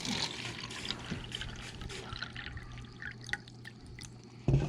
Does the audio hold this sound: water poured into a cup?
yes